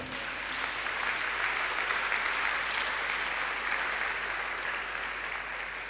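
Church congregation clapping steadily in a sustained round of applause, a dense even wash of many hands, moderately distant, with no voices standing out.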